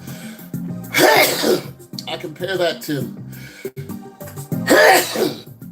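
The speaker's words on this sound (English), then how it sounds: "got to sneeze" A person sneezes loudly, speaks briefly, then sneezes forcefully a second time, both sneezes close and sharp.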